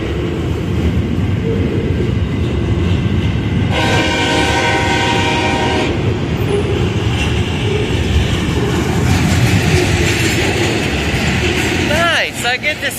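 A CSX welded rail train rolls past at close range with continuous heavy rumbling and wheel noise, while its horn blares in a long blast partway through; a brief squeal rises near the end.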